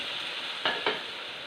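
Battered snack pieces deep-fry in oil on a medium flame with a steady close sizzle, broken by two brief soft bursts as pieces are stirred or dropped in.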